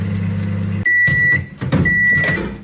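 A microwave oven cooking crisps, a low steady hum cutting off abruptly, followed by two sustained electronic beeps close by, with clatter and handling sounds in between.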